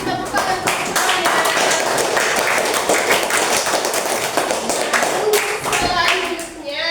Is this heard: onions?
no